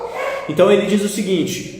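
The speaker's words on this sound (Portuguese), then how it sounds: "peço perdão pelos cachorros de fundo" Two pet dogs barking in the background of a home kitchen, audible behind someone speaking Portuguese who talks over them throughout.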